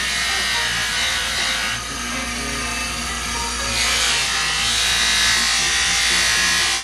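A buffing wheel polishes a guitar pick with rouge, giving a steady, close, high-pitched motorized whir with a slight dip in pitch near the middle.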